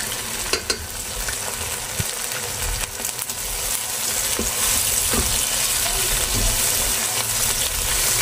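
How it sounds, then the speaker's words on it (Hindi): Ginger garlic paste frying in a pan while making mixed vegetable pulao, a steady close sizzle with scattered stirring clicks and scrapes, no talking. "और साथ ही मैं इसके अंदर अदरक लहसुन का पेस्ट डाल देती हूँ 1 टेबलस्पून,"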